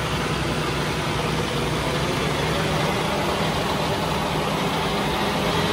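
A tractor engine runs steadily with its PTO engaged at 1000 speed during a wagon rebuild, giving a loud, continuous, close droning rumble with no pauses and no voices.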